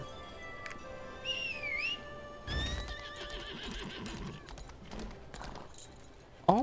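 An armored horse mount in the video game Lost Ark whinnies and neighs, with clip-clop hooves and game effects around it, fairly clear with a loud burst at the end.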